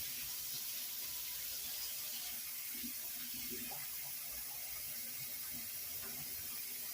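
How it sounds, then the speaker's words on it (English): Fresh water runs from a sink tap into a cooking pot, a steady, soft hiss and splash that stays constant throughout with no talking. "Put some fresh water in there because it's still salty."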